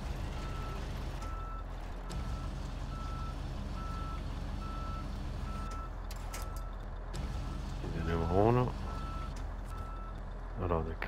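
A truck in SnowRunner backs up at a port delivery with a regular series of evenly spaced reversing beeps over a low diesel rumble, with brief mechanical whines and a hiss near the end.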